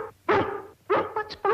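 A dog barks up close in an old 1950s television drama, giving several sharp, loud barks and yips in quick succession with short gaps.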